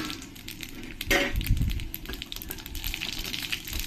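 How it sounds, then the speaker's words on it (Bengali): Radhuni seeds and dried red chillies splutter in hot mustard oil in a pan with dense, crackling pops. The popping comes in irregular bursts, and a louder burst swells partway through. "রাঁধুনিটাকে ভালো করে আমি ফুটতে দেব।"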